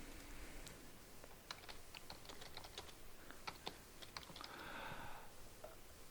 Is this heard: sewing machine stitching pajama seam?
no